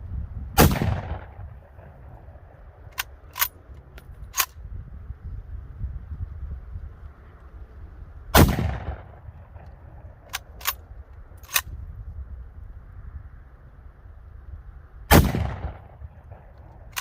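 Three sharp, loud Mosin Nagant rifle shots fired at pumpkins outdoors, several seconds apart, each cracking and then decaying, with faint clicks and handling noises in between.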